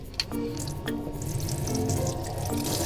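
Hot water runs steadily from the shower tap of a 13-year-old used campervan, a continuous splashing hiss with faint drips and small clunks, heard close and alone.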